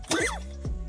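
A sick dog coughs inside a car, one harsh hack followed by a weaker second cough, close by and alone.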